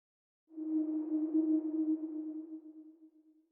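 A single sustained synth tone sent through an Echo Boy ping-pong delay plugin, swelling in and then trailing off in fading repeats over about three seconds, heard alone in a quiet mix.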